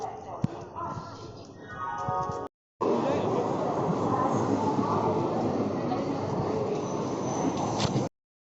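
A passenger train rumbles loudly and steadily nearby, broken by one short silent cut, with a busy, noisier stretch of station sound at the start.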